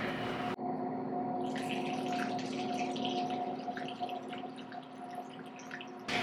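Honey-finished bourbon whiskey poured through a small funnel into a measuring cup makes a quiet, steady liquid trickle and gurgle that runs for several seconds, alone without talk.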